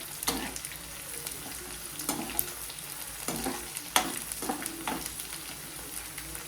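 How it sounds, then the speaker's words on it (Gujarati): Okra sizzles in oil over high heat, with repeated scraping and stirring strokes against the pan at an irregular rhythm. "આપણે ભીંડાને હાઈ ફ્લેમ ઉપર જ તળવાના છે, જેથી સરસમાં તળાઈ જાય"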